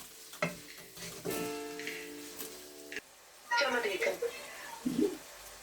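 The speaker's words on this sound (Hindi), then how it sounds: "ये इसमें डाल देते हैं और ज़रा अच्छे से इसे फ्राई कर देते हैं।" Chili chicken frying in a pan gives a steady sizzle with stirring scrapes, broken by a pause partway through, while people talk over it.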